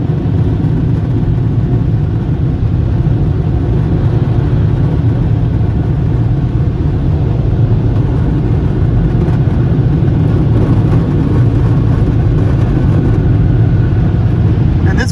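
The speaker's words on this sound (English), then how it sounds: "And here comes the wind. It's time to dry." Powerful air dryer blowing at a Sweetwater car wash in Windermere, Florida, a loud, steady broadband roar heard from inside the car that holds without break throughout.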